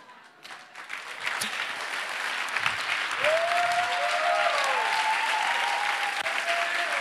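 A church congregation applauds loudly during a sermon, dense sustained clapping that builds and holds throughout, with a few cheers and voices mixed into the crowd noise.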